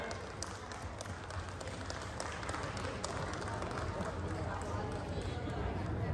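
A crowd at a community evening cultural gathering applauds steadily, a dense, even wash of clapping at moderate distance with some voices mixed in throughout.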